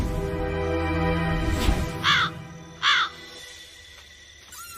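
Two harsh crow caws, close and fairly loud, separated by a short pause over a steady hum of background sound.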